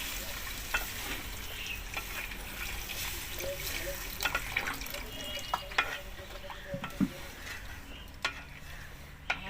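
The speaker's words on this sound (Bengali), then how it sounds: "এর মধ্যে আমি জল দিয়ে দেবো এবার।" Water is poured into duck meat curry sizzling in a pan, cooked village-style. A steady frying hiss runs throughout, broken by stirring scrapes and light clinks, close and with no speech.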